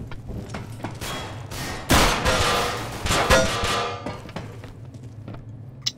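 Gunfire in Counter-Strike: Global Offensive, a burst of rapid shots around the middle with scattered single reports before and after, close and fairly loud over a steady low game hum.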